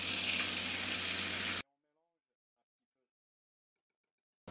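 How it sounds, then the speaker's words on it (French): Butter and flour roux sizzling in a pan over low heat, a dense, steady frying hiss that runs for about a second and a half and then cuts off abruptly into near silence. "Je prépare un roux à la base."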